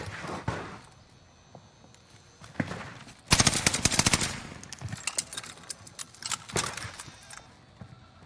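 H4 Blixen submachine gun firing in the video game Warzone on Rebirth Island: short scattered bursts, then a long loud rapid-fire spray, with more bursts after it.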